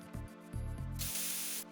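Spray effect from the Metal Gear Solid 2 video game, a hissing burst of spray lasting just over half a second, loud and close, following a few low rhythmic thuds of game sound.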